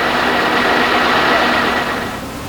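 An engine runs steadily with a dense, even roar during a repair check, holding level before easing slightly toward the end, with no clear rev spike.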